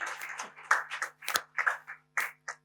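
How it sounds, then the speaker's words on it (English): Sparse clapping greets a panel speaker at a strategic plan launch: a dozen or so separate, close handclaps in an uneven rhythm over a low electrical hum, with quiet gaps between them. "A round of applause for Subira."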